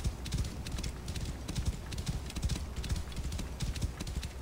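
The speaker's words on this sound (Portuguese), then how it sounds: "Olha o cavalo correndo, tá bonito, hein?" Horse galloping in the video game Assassin's Creed Origins, a steady run of hoofbeats drumming at close range with a soft desert wind bed and no talk.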